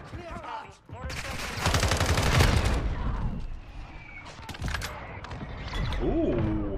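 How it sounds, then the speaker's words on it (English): Mortar strike in Modern Warfare II, heard as a dense run of rapid gunfire-like blasts and booms that rise to a heavy peak, then fade into scattered impacts and mechanical clatter, with brief voices in the game mix. "found a kill with the mortar strike"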